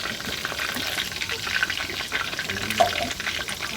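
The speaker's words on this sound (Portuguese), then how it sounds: "Olha aqui, gente, agora eu vou pôr água." Water pours into a cooking pot on the stove with sizzling and splashing, a continuous moderately loud close pour that carries on throughout.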